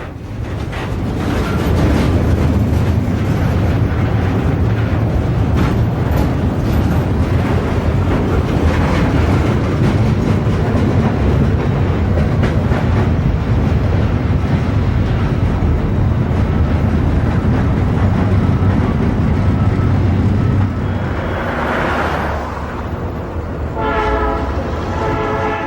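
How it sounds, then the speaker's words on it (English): An Alco switcher locomotive hauls freight cars on the New York Cross Harbor Railroad, rumbling and clanking loudly and steadily close by, and near the end a horn blows in a few short blasts. "The Alco switcher is a perfect locomotive for the job here"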